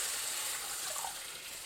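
Water pours steadily into a pan, a soft continuous splashing rush at moderate volume without any voices.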